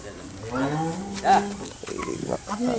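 A cow being walked about lows once, close and fairly loud, a drawn-out moo set against light background noise and faint voices.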